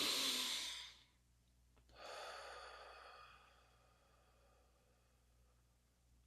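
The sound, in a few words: deep breath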